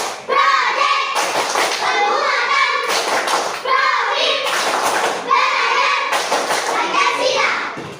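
A class of children at an Indonesian school chants the P5 clap rhyme, their voices rising and falling in loud rhythmic phrases with bursts of hand clapping at regular intervals.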